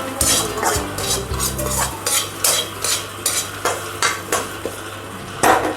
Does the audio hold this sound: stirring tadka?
yes